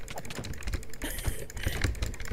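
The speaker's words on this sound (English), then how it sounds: "Wait, I think he's typing." Close, rapid clicking of a computer keyboard being typed on, a dense, uneven patter of keystrokes running steadily throughout.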